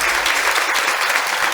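Audience at a university lecture event applauding an organizer, a loud, dense and steady burst of many hands clapping together, close and unbroken with no speech over it.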